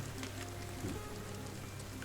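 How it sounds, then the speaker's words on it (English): Rain falls steadily outside, a soft continuous hiss of drops over a low background hum that holds for the whole stretch. "No need to be standing out in the rain."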